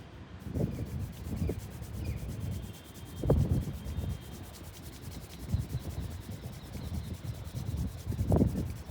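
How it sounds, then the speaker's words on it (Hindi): Palms rubbed together briskly to build heat during post-workout relaxation: a soft, close, continuous friction swishing that comes in repeated strokes and swells, with no one talking. "Again rub your palms and slowly massage on your facial muscles."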